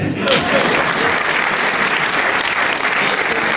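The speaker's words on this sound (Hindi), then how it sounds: "एक बार तालियां बजाओ।" An audience at a Hindi comic poetry gathering in Morrisville applauds a poet, thick sustained clapping from many hands filling the room evenly for the whole stretch.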